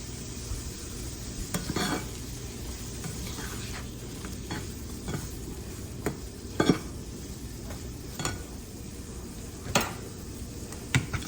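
Fork whisking eggs, milk and flour in a bowl for a ham and Swiss quiche, a steady scraping swish broken by irregular light clinks against the dish, fairly close and with no talking.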